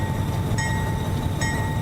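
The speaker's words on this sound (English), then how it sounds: "The train is accelerating even faster." Train sounds in a game modelled on Train Simulator, with a CSX locomotive on a long train: a steady low rumble with a constant tonal hum, plus two short brighter squeals or tones. No talking.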